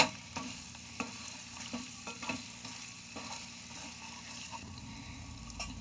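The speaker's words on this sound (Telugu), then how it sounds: "బాగా మిక్స్ చేసుకుందాం ఒకసారి." Chettinad chilli chicken fry with garlic cloves being stirred in a pan, a steady sizzle broken by repeated spatula scrapes and knocks at an uneven rhythm.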